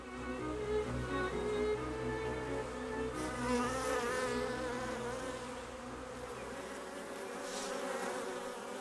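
Honeybee foragers carrying pollen and nectar fly close by near their hive, a loud steady buzzing drone of wings that shifts in pitch as the bees move, with no voices.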